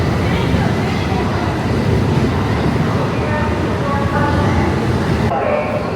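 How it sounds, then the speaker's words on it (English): A bullet train rolls into Guangzhou South Railway station, its deep, steady rumble and rail roar filling the platform without letup, close and loud throughout. "Here come the bullet train."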